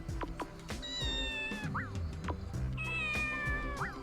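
Cartoonish cat voice from a video game's monster creator, two drawn-out meows with rising upward chirps, clear and close over a steady game background, no talking.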